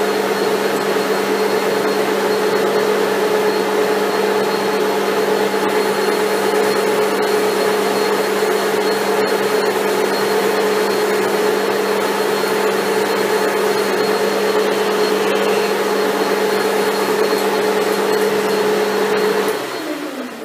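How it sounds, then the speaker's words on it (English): A lathe boring bar cuts metal to a half-inch depth, producing a loud, steady droning whine with a sustained tone that holds evenly for about twenty seconds, then cuts off at the end, with no talking. "So I'll touch off with the boring bar, come in 1/2 inch."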